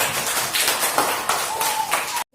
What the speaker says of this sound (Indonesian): Oke, tepuk tangan untuk kelompok satu.